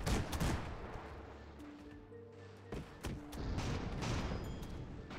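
Airship cannons firing in the game Airships: Conquer the Skies, a fast series of sharp gunfire bursts and booms that fades briefly midway, then a second heavy volley.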